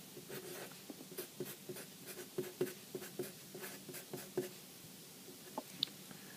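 A pencil sketching on paper makes repeated light scratchy strokes in a steady rhythm, close and quiet, with no voices.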